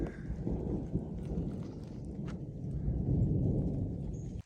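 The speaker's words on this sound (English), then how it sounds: "We got thunder." Thunder rumbles low and rolling on a hike as light rain moves in, a long, distant, moderately faint roar that swells and fades before cutting off abruptly.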